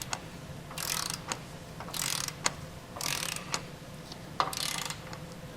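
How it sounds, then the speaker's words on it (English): A socket ratchet on a 15/16 socket tightens the lower bolt of a Roadmaster Direct-Connect base plate, giving several bursts of rapid clicking with sharp clunks between strokes, close and clear with no talk. "I'm going to tighten and torque the lower one first."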